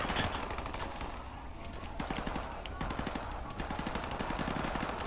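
Machine gun fire in Call of Duty 4 Modern Warfare comes as repeated rapid bursts of sharp cracks, loud and close, with dense battle noise throughout.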